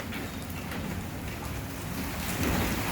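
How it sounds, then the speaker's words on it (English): Heavy rain pouring down outside a garage in Colorado, a dense, even hiss of drops on surfaces that holds steady and swells slightly toward the end. "It's raining like crazy"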